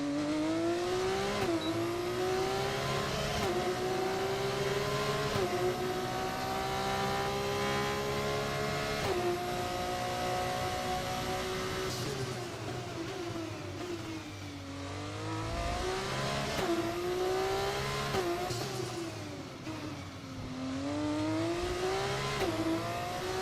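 F1 car engine on a qualifying lap in F1 24, with a loud, continuous high-revving whine that climbs and drops through repeated gear shifts and braking zones, alone without talk.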